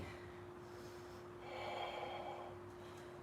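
A single soft, close breath taken while holding a yoga pose, a brief airy exhale over a steady low hum, with no talking.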